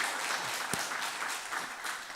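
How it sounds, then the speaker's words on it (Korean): Church congregation applauding for the choir after a service performance, a steady patter of clapping from many hands throughout, moderately distant with no talk over it. "한 번 더 박수 부탁드리겠습니다"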